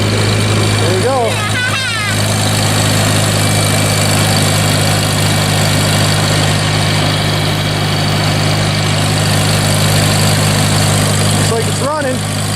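A 1964 Evinrude Big Twin outboard motor idles steadily just after a cold start, a loud continuous mechanical drone with a few brief squeaky chirps near the start and end.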